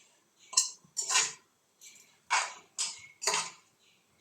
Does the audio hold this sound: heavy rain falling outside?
no